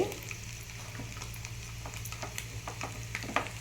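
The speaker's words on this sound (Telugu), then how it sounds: "నేను కారం ఎల్లుల్లిపాయలు కొట్టుకొని ఉంచుకున్నాను ఇది వేసుకుంటాను" Pounded garlic and chili paste fry in a pan with a steady, soft sizzle, fairly quiet and close, with light stirring scrapes and no voices.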